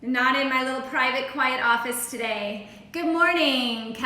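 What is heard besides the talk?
No everyday noise stands out behind the speech.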